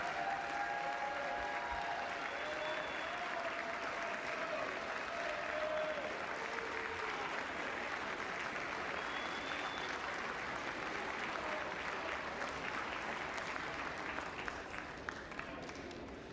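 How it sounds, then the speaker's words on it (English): A large crowd in a political assembly hall claps and cheers in a dense, steady wash of applause that holds for the whole stretch, with a few whistles on top and no clear talk. "I have no idea why they're cheering."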